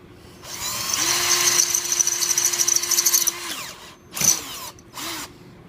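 A power drill bores out and enlarges a hole in a smartphone tripod mount, whining steadily for about two and a half seconds, then two short close bursts follow with brief pauses between them.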